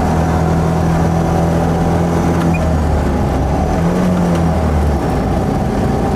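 A Trojan 200 (Heinkel Kabine) bubblecar's small engine droning loudly from inside the cabin as it accelerates, its steady buzzing note shifting as it changes gear, heard alone without talk.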